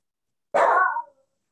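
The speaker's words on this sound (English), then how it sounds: "Sorry, my dog is yelling." One short, sharp bark from a dog, close by and fairly loud, followed by silence.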